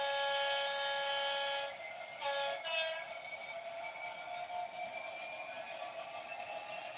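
A Class 66 locomotive on a model railway layout running around the track, a steady whining motor hum with tonal whistle-like harmonics, a brief dip and rattle partway through, close and fairly quiet.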